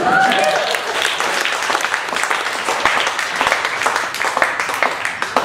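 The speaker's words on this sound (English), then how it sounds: "You can clap if you want." Audience applause at a stand-up comedy gig fills the room, a dense, steady clatter of many hands clapping at close range throughout, with faint crowd murmur underneath.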